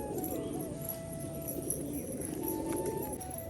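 Rajshahi pigeons let loose from their loft coo in a low, continuous murmur that fills the space, close and steady, with no one talking.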